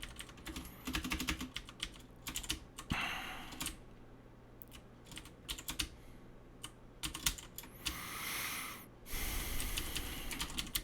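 Computer keyboard typing during a programming session, quick irregular clicks in short flurries with brief pauses, close and fairly quiet, with no talk.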